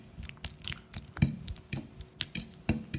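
A coriander and cashew pesto being stirred in a bowl, with irregular close clinks and wet scraping knocks from a utensil against the bowl, about a dozen sharp hits over a few seconds.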